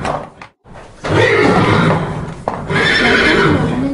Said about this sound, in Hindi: घोड़ा एक पालतू जानवर है जो कि सवारी के काम आता है।